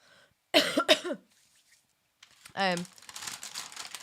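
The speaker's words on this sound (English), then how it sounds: "The crummy things, though, are making me cough" A couple of sharp coughs close by, followed after a pause by a brief vocal sound and some crinkling rustle.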